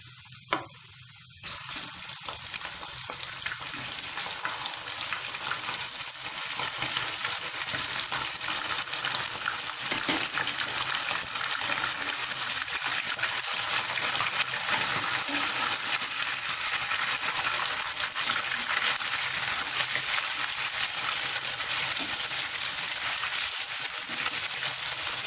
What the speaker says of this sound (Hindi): तो प्याज गोल्डन हो गई है। अब हम इसमें चिकन डाल देंगे।